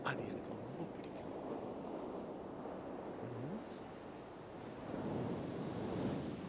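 Ocean waves wash onto a beach in a steady, fairly quiet surf, with wind noise over the microphone and a swell that rises toward the end; no voices are heard.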